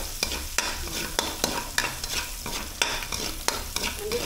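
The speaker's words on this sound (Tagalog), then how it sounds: "Gigisa tayo ng bawang. Tayo ng bawang, saka sibuyas." Garlic and onion sauté in oil in a home kitchen pan while being stirred, giving a steady close sizzle with regular scraping strokes of the spoon.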